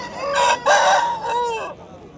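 A rooster crows loud and close at a poultry market in Pileru, one long cock-a-doodle-doo broken into strained, rising and falling segments, with faint market murmur underneath.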